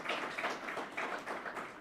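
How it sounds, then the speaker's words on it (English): Applause from a small audience at the signing of a Baltic Sea offshore wind declaration, a short, steady patter of clapping heard fairly faintly, without speech. "Round of applause."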